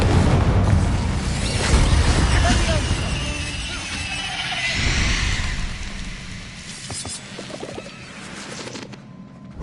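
Fire spell cast in Hogwarts Legacy combat, heard as loud booming blasts and bursts within dense battle noise, with a voice calling out over the action.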